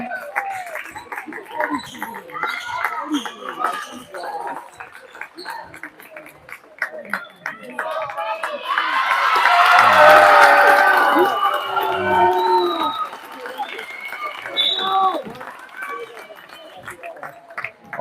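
Fans in a school gym cheer during a basketball game, a dense crowd roar that swells to a loud peak midway and then eases, with a commentator talking over it throughout.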